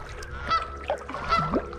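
Several nesting geese on a reservoir island honk in short, loud calls, a few overlapping, with a steady low background hum underneath.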